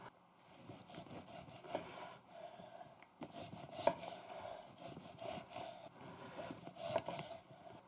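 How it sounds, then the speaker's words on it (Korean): A knife cutting 250 g of meat into pieces on a board, quiet irregular slicing and soft thuds with a few sharper taps, close and faint. "다음은 고기 250g을 아, 적당한 크기로 썰겠습니다"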